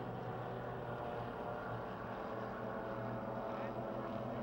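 Factory stock cars in a six-lap dirt track heat race at Pennsylvania Motor Speedway near Pittsburgh, a steady, dense engine roar from the pack that runs unbroken and loud throughout.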